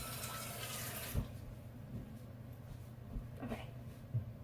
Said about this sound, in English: put it over here, and put water in it.